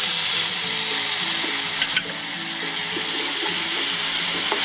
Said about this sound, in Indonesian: Aduk dan gongso-gongso sampai udang rebonnya matang.